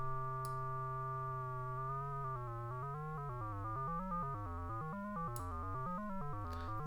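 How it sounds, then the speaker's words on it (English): An ARP 2600-V synthesizer's sample and hold module steps through distinct pitches quickly, a clean buzzy tone jumping up and down in rapid stepped notes, steady and fairly quiet, with no talking. "You hear that stepped sound? It's playing distinct tones very quickly."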